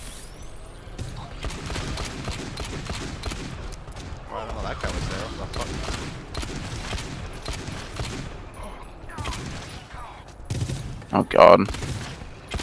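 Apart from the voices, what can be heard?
gunfire in the video game GTFO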